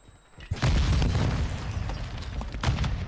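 A grenade blast in the video game Modern Warfare 2 erupts as a loud, sustained boom with crackling bursts, filling the whole clip after a quiet start.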